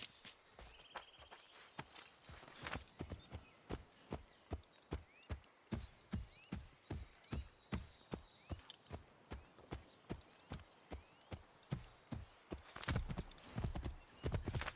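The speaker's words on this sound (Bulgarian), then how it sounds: "Да си вземем кон." Horse hooves clip-clop at a steady walking rhythm in Assassin's Creed III Remastered, loud, even strikes repeating across the whole stretch with faint game ambience between them and no talk.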